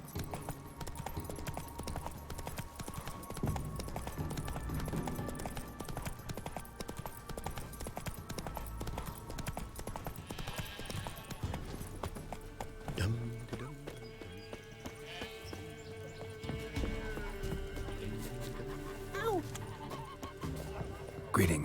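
Hooves clip-clop steadily as the horse Roach gallops in The Witcher 3, with neighs breaking through and game music and speech running underneath.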